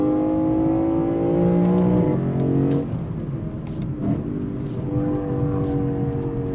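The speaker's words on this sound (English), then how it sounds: "The engine just sounds great." The V8 engine of a Lexus IS 500 F Sport Performance revs up through rising tones, drops off briefly, then climbs again, heard from close by with no talking.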